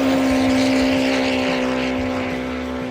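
Turbocharged Polaris RZR Pro R side-by-sides racing heads-up on a lake bed, a loud continuous engine drone holding steady throughout.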